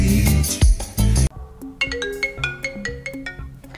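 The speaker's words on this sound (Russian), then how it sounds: "звук забыла в телефоне выключить" A mobile phone ringtone plays a bright, repeating electronic melody after a loud burst of other sound, the tones stepping up and down in a steady rhythm, close and clear.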